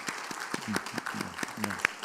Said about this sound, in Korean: 우리 나오미 선교 박수를 한번 해주시죠